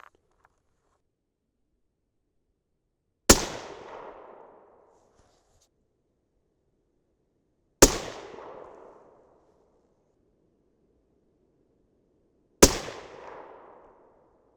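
Three suppressed 6.5 Creedmoor rifle shots firing 129-grain Nosler Accubond loads, each a sharp loud crack with a short decaying tail, spaced about four to five seconds apart against near silence.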